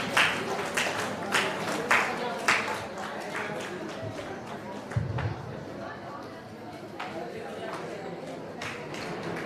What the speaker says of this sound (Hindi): हाँ, जोर से ताली बजाए, खून बढ़ेगा